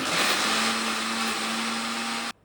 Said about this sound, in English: We'll start by filtering out some soaked chana dal and adding it to a blender.